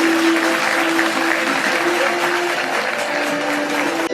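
Loud, sustained applause from an audience at an alumni meet in Pune, dense clapping running steadily for about four seconds with a faint hum underneath.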